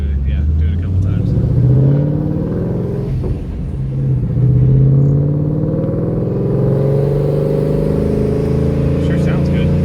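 A 2014 Mustang fitted with a Paxton 2200 supercharger accelerating in second gear, a deep loud engine rumble rising and falling in pitch, with voices talking over it inside the car.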